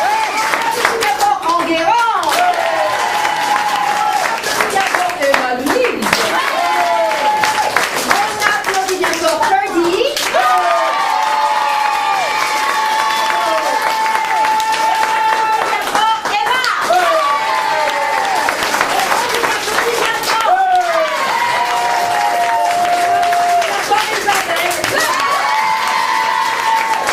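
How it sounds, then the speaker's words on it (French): Applause for children after a school play, clapping and some cheering from an audience running steadily throughout, with a teacher's voice and someone speaking at times over it. "On applaudit bien fort Emmanuel"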